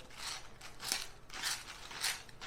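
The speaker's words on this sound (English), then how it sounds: "So I'm just going to grind some black pepper in there." A hand-cranked pepper grinder cracks black pepper in about four quick ratcheting bursts, crisp, close and fairly quiet, with short pauses between turns and no talking.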